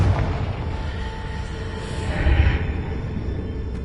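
A fiery Confringo blast spell in Hogwarts Legacy, heard as a muffled booming burst that swells midway through amid steady rumbling game ambience.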